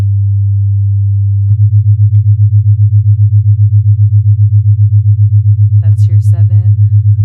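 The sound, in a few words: binaural beat from 100 Hz and 107.5 Hz tones in Logic Pro X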